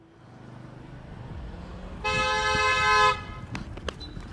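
A car horn blares once in a sustained honk lasting about a second, loud and close, aimed at a girl standing in front of the vehicle, over a low rumble of street noise with a few clicks after.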